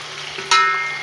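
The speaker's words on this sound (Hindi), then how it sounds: "चिकन डाल के हम इसको करते हैं फ्राई" Chicken frying in hot oil with onions in a large pot, with a short soft sizzle and a sharp scrape or clatter of a spoon midway, with no talk.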